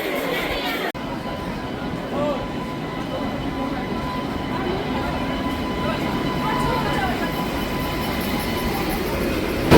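The Kandari Express pulls into a station on its way toward Howrah, a continuous heavy rumble of wagons and wheels with a faint squeal, while waiting passengers chatter on the platform nearby.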